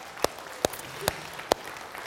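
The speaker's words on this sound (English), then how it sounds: "We can clap for that." A church congregation claps only sparsely, with four sharp, separate claps spread across a quiet room, faint and unhurried.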